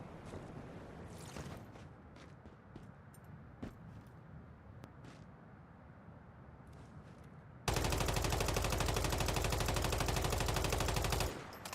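A rapid, loud burst of automatic gunfire in the Once Human video game goes on for about four seconds after a stretch of quieter ambient game sound with scattered faint pops.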